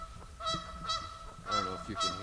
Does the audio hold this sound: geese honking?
yes